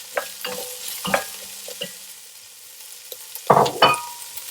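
Vegetables stirred in a pan as they soften and glaze, with intermittent scraping and clattering stirs, a faint sizzle between them and a louder scrape cluster near the end.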